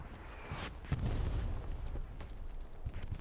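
A satchel charge detonating in the WWII shooter Hell Let Loose lands as a single deep, muffled boom that rolls into a low, rumbling tail, fairly faint and distant.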